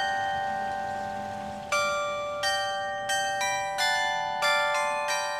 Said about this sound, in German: damit wir das Glockenspiel um 9 Uhr mitbekommen